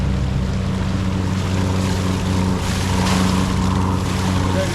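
The inboard engine of a Sun Odyssey 49i sailing yacht runs at maximum RPM under way at sea, a loud, steady droning hum layered with water and wind rush.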